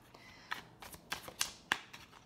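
A new tarot deck being shuffled by hand, giving a run of crisp papery riffles and sharp card snaps in irregular bursts, close and fairly quiet, with no voices.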